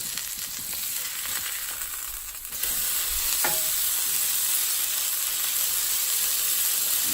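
A burger patty and onions fry on a hot griddle with a steady, dense sizzle that gets louder and fuller partway through and then holds evenly, with a brief scrape near the middle.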